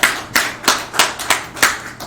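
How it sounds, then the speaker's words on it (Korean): Congregation clapping in a church service, a rhythmic series of about eight sharp, evenly spaced claps in unison, fairly close and standing alone without talk. "박수 올려드립니다."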